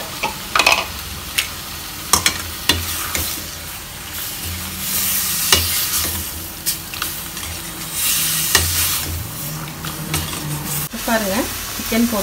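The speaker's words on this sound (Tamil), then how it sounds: "நல்லா சிக்கன் வதங்கிட்டுருக்கு." Chicken and a ground spice paste sauté in a pan for a country-chicken gravy: a loud, close, steady sizzle broken by repeated sharp scrapes and clanks of stirring.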